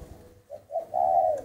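A single spotted dove gives one short, soft, low coo, a faint lead-in swelling into a fuller hooting note, close by and with no other sound.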